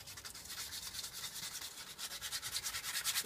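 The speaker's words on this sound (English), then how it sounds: "now I'm going to hit it with a 220 grit sandpaper" Hand sanding a Porsche brake caliper with 220 grit sandpaper, a steady scratchy scuffing that pulses in quick rhythmic strokes, close and moderately loud, alone with no talk.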